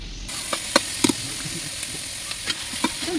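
Chopped shallots and green chilies cooking in a covered pan over a wood-fired stove, a soft continuous hiss and sizzle with scattered small pops and crackles, close and even.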